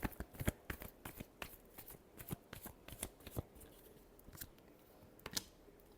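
Tarot cards being shuffled close by: a fast string of crisp snapping flicks for the first few seconds, a quieter gap, then a few more sharp card slaps, with no talking.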